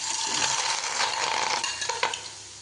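Chopped ripe nendran plantain pieces frying in a pan: a loud, dense sizzle holds steady up close, joined by a few scraping utensil strokes before it eases slightly at the end, with no speech.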